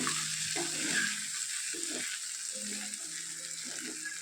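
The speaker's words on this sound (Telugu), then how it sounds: "కాకరకాయలని అడుగంటకుండా అప్పుడప్పుడు మూత తీస్తూ కలుపుకుంటూ" Small bitter gourds fry in a pan with a steady, close sizzle, while intermittent scraping and stirring strokes come through and a voice speaks softly over the cooking.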